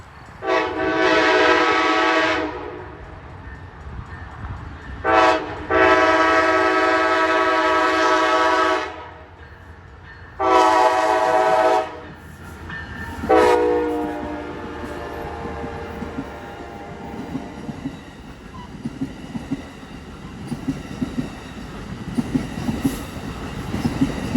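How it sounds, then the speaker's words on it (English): An Amtrak Coast Starlight train horn blasts in four long, loud bursts as the train approaches at Gilroy, followed by rumbling and clattering wheels as it rolls past. "Kevin Hill caught the Coast Starlight in Gilroy on March 28th."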